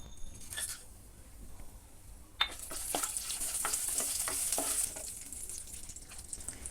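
Whole spices including crushed pepper, cinnamon pieces, cardamom, star anise and cloves drop into hot oil in a pan and fry, with a soft sizzle rising after an initial clatter, alone without talk.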